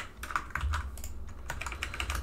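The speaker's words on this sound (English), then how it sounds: "just use shift and my arrow on my keyboard to align it" Computer keyboard keys are pressed in a rapid, uneven run of close clicking taps while a WordPress theme is built, steady for the whole short stretch with no voices.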